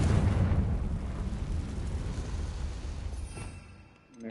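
A Confringo spell explosion in the video game Hogwarts Legacy: a loud, deep blast that rumbles and slowly fades over several seconds, with no talking.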